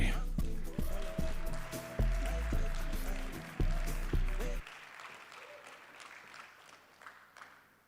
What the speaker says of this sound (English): So put your hands together for Palm AI.